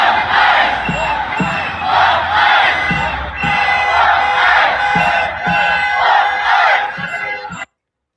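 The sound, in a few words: crowd of protesters gathering in downtown Minneapolis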